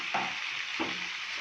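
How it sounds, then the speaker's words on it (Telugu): Tandoori chicken pieces frying in a covered pan over medium-low heat, giving a steady close hiss of sizzling oil with two brief louder crackles, no voices. "మీడియం టు లోలో పెట్టి మనం ఫ్రై కానిద్దాం. దీన్ని క్లోజ్ చేసి ఫ్రై కానిద్దాం."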